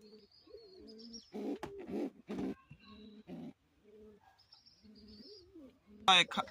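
Soft coos from a pigeon farm's black Chila pigeons come in short low phrases between bits of a man's speech, with a brief chirp near the end.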